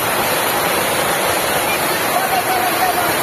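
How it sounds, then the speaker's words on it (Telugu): Heavy rain pours down in a thunderstorm, a dense, steady roar of falling water that fills the whole clip at close range with no breaks. "ఫుల్ వర్షం పడుతుంది"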